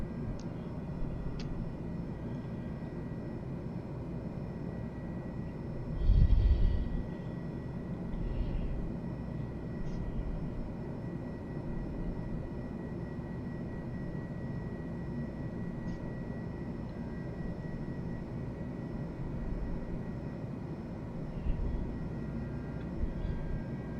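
An aircraft taxiing in a flight simulator game, a steady low engine drone holding throughout with a brief thump near the start of the stretch and no talk over it.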